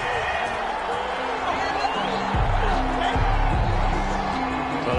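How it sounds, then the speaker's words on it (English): A football stadium crowd at a Giants vs 49ers divisional playoff game swells into a loud, displeased roar after a penalty flag, rising midway through the clip beneath a broadcast commentator's voice. "The crowd doesn't like that."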